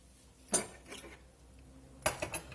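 Rice salad with tuna and hard-boiled eggs spooned into a small bowl: two quiet clusters of utensil clinks and scrapes against dishware, close and brief, separated by a pause.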